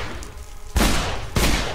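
Two heavy, booming gunshots from a supernatural detective shooter game ring out about half a second apart, loud and close with no talking.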